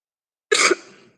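A single short, rough cough with throat clearing from a woman giving a spiritist lecture at CEFE, recently recovered from flu. It bursts out of silence, is close and fairly loud, then trails off quickly.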